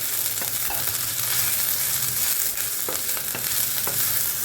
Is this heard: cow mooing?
no